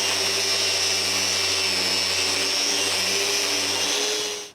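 Plywood veneer is worked with a long sanding board at 220 grit, a steady droning whir holding throughout, close and fairly loud, with no talk.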